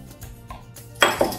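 A spoon stirs kefir mixed with soda and salt in a bowl, giving a few soft scrapes followed by two sharper clinks against the bowl near the end.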